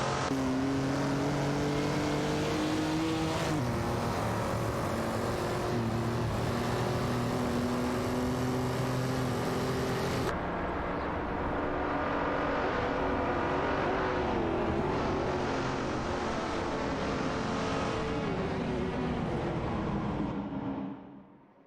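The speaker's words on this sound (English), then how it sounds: "The dynamics in this section of the race are heating up as all 4 cars jockey for position" Several race cars in an AI racing video game, engines droning and whining loudly and steadily as they jockey for position, with pitch sweeps of passing and revving throughout, fading out at the end.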